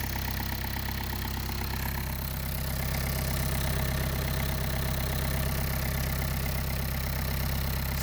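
A VW Vanagon Westfalia engine idles steadily, a close, even mechanical chug with a low rumble that holds at a constant level throughout, with no voices.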